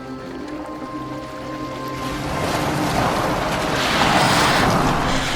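In Assassin's Creed Valhalla, a boat sails across open water: a steady rush of water and wind that swells and grows louder and more spray-filled over the seconds, with no voices.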